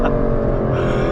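The heavily turbocharged V12 engine of an Aston Martin DBS Superleggera Volante sounds as a loud, steady, close-up drone with a rich low rumble and smooth, continuous power and no talking.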